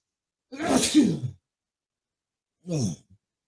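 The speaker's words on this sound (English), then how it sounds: "I'm about to sneeze, so I apologize." One loud, close sneeze bursts out, followed after a pause by a shorter breathy exhale or sniff.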